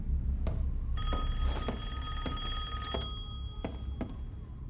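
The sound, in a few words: telephone ringing in video game Resident Evil Village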